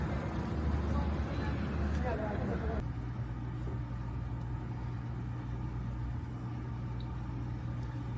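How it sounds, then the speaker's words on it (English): A rideshare car pulls up and idles nearby, a steady low engine rumble with traffic noise that drops to a quieter, constant hum partway through. "my Uber is pulling up"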